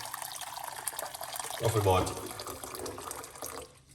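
One cup of hot water pours briefly into a medium-sized pot with a short gurgling splash, while a person speaks softly around it.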